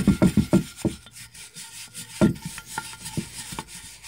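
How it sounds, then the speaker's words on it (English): Bristle brush scrubbing degreased Volkswagen MK4 car parts, with quick close strokes in a burst at the start, then scattered slower scrapes and rubs, loud and near with no voices. "You're gonna grab one of your brushes and just scrub."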